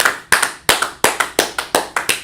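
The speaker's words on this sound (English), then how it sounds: "Clap it up for the truth." Sharp, separate hand claps in a steady rhythm, roughly eight of them over two seconds, close and fairly loud, with no voices.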